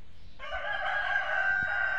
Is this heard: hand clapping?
no